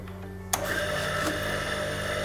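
A jewelry polishing lathe with a cotton mop starts up with a sudden onset and settles into a loud, steady whirring motor hum with a broadband rushing whine, close and continuous.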